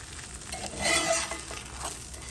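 Grilled cheese sandwiches frying in a pan, giving a soft, steady sizzle with faint scraping and utensil movement, louder for a moment midway, with no talking.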